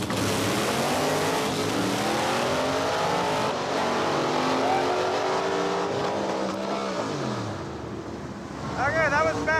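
Supercharged drag race car with a larger blower pulley, tuned around 1050 horsepower, making its first pass: a loud, rising, rasping engine roar that stays close for most of the clip, then tapers off, with a brief voice near the end.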